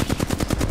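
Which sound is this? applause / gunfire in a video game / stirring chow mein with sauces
gunfire in a video game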